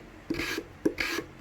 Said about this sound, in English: this is called scraping. Just remove like very little amounts of material.